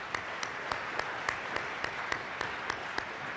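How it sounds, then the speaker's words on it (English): Audience applause at a DARE graduation ceremony in Northfield: an even, moderately loud round of clapping from a seated crowd, with a few sharper individual claps standing out at a steady rhythm throughout. "I'd like to give y'all another round of applause."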